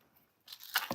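Fancy gold scissors cut through crafting material for a New Year's wand and shaker, a few quick, close crisp snips following a short quiet pause.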